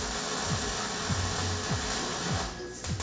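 Welding a sway bar plate onto a Fox-body Mustang frame: a steady broad hiss and crackle runs throughout, close and fairly loud, with faint periodic low thumps underneath.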